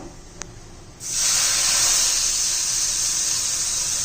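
A sudden loud sizzle bursts out as hot tempering oil is poured over chutney, then a steady broad hiss continues close up for a few seconds without talk.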